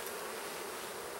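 Honey bees drone in a dense, even hum from an opened beehive just after its lid and inner lid are lifted, a faint steady buzz with no voices.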